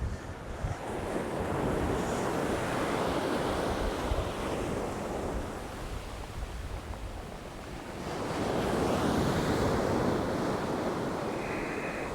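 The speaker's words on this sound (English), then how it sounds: "Oh, that wind is just killing the casts." Steady surf and gusting wind on Withernsea beach on the UK east coast, with waves washing in continuously and wind buffeting the microphone, rising louder in the last few seconds.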